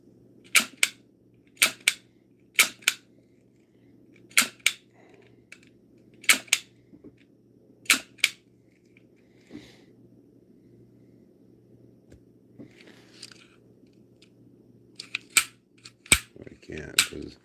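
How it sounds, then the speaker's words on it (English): A Miniblaster toy cap gun revolver snaps off sharp, loud cap shots, mostly in quick pairs with short gaps between, over a low background hum, and a few faint clicks follow near the end. "What I wanted to know is if I could rapid fire this like fucking Clint Eastwood"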